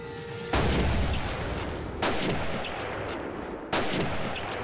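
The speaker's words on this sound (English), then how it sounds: "Three Mosin shots" Three loud Mosin rifle shots in a Call of Duty campaign battle, each a sharp blast with a long decaying tail, spaced unevenly about a second and a half apart.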